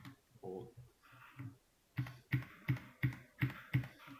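Computer keyboard keys typed in a run of crisp, evenly spaced clicks, at first light and scattered, then louder and steadier in the second half, heard up close while writing out a multiplication-table print statement.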